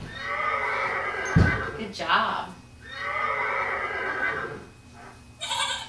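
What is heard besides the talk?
horse neighing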